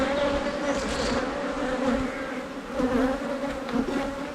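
Dense swarm of honeybees buzzing around an open beehive during spring honey harvest, a steady close drone with shifting pitch as individual bees pass near.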